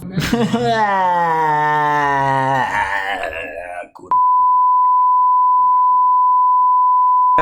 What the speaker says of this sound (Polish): Te piknięcia były dlatego, bo po prostu.